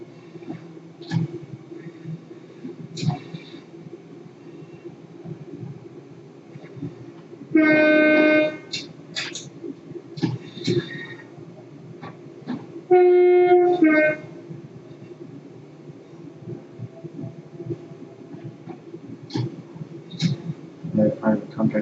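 A train rumbles along in a train-driving video game, with a steady low running drone, occasional clanks and two long horn blasts, while someone talks over it at intervals.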